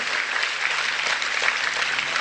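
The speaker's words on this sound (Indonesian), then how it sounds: "tepuk tangan untuk deklarasi itu" A large crowd at a Cak Nun gathering applauds a declaration, with continuous, even clapping filling the whole stretch at a steady, fairly loud level and no talk over it.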